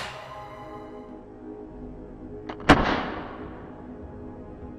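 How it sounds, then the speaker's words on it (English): A musket fires once, a sharp booming crack that rolls off into a long decaying rumble over a faint, sustained tonal background. "when I finally got my own hands on the musket, let's just say I was very nervous, but had a lot of fun. Now, it's time to shoot and fire."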